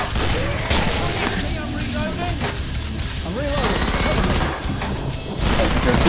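Submachine gun fire in Killing Floor: dense, continuous chattering bursts with crashes and booms fill the whole stretch, loud and close, while players talk over the noise.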